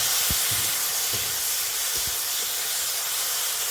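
Ingredients dropped into hot ghee with bay leaf and cashews, producing a loud, dense, steady hissing sizzle with a few low knocks early on, close.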